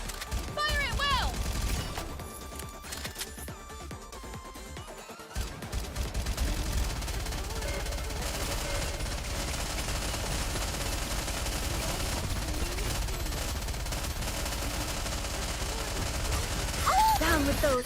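Rapid volleys of gunfire ring out continuously through a video game battle over a constant background of music and effects, with a brief lull in the middle before dense firing resumes; a voice talks over parts of it.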